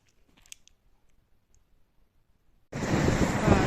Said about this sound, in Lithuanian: Linkiu pasižiūrėti į mūsų jūros Baltijos bangavimą